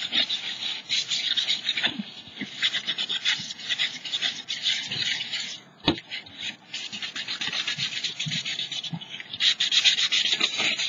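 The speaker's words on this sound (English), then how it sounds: "grab my sandpaper and just go over it so I can have my gesso stick on there" Sandpaper rubs over the surface of a globe in quick back-and-forth strokes, a close scratchy rasping that continues with brief pauses.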